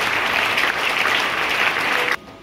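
A church congregation at a Bible seminar claps in steady, full applause, a dense wash of many hands that cuts off abruptly near the end.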